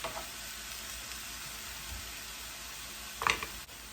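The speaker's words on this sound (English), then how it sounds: "You want to break up your sausage as you're cooking it." Sausage sizzles steadily as it is broken up in a frying pan for a potato casserole, a soft constant crackle with a brief louder scrape of the utensil near the end.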